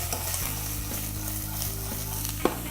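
Onions and garlic fry in vegetable oil in a pan, a steady close sizzle with stirring scrapes and a low constant hum underneath, with one sharp clink near the end.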